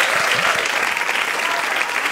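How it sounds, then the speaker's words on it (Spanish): Loud, sustained audience applause fills a hall as a volunteer is called up on stage during an armless musician's performance, a thick, steady roar of clapping close by. "Give him a round of applause."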